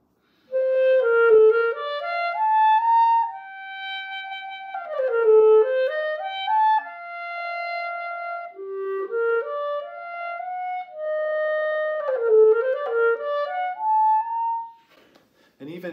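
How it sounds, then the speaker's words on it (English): A solo clarinet is played with a warmer, rounder tone, in a close, legato phrase of sustained notes with smooth slurred runs up and down before it trails off at the end. "to a perhaps warmer or rounder sound like this one."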